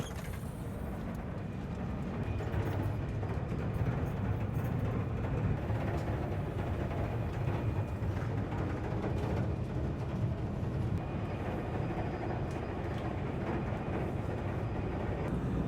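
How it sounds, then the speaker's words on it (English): A steady, low rumbling hum fills the space with constant rolling noise from inside a 300 km/h high-speed train running from Paris to Cologne, with no voices. "Pretty smooth train ride."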